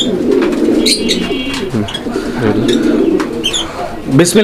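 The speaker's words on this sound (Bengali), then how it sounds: "অসাধারণ ডাকের কবুতর" Pigeons coo in low, throaty bursts, close by and repeating, with voices talking underneath and a few sharper chirps mixed in.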